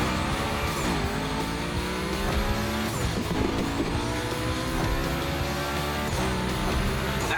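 A car sliding and drifting through a Gymkhana course in The Crew Motorfest, engine revving and shifting under long tire squeals that rise and fall, loud and close throughout.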